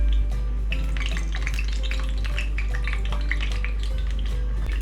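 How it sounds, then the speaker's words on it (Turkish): Eggplants frying in hot oil in a wide pan, a steady close sizzle and bubbling with scattered clinks and stirring sounds over a constant low hum. "şimdi patlıcanları dikkatlice kızgın yağın içine bırakıyorum"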